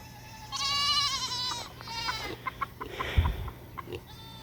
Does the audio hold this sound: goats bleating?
yes